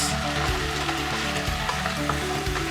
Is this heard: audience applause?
no